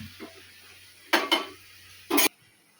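A metal spoon scrapes and clanks against a pan while chicken for a curry is stirred, three sharp strikes over a faint low hum, with soft sizzling between them.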